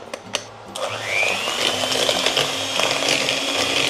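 Electric hand mixer beating egg yolks with brown sugar for a gianduja chocolate cake, a steady close whirring drone that starts after a few light clicks and holds at an even level to the end.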